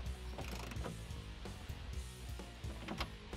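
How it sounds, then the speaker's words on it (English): A ratchet fitted with a 19mm socket tightens bolts on a rear chassis X-brace under a 2005-2014 Ford Mustang coupe. The pawl clicks come in a quick, rapid run, close but fairly quiet. "I'll get my 19mm socket on the front, and I'll tighten these down"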